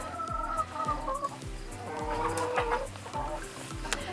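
Chickens in a mobile coop cluck repeatedly in short rhythmic bursts, close by and fairly loud, with some farmyard bustle around them.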